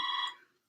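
A doorbell gives one short electronic ring, a bright tone that fades out within a second, heard faintly and alone.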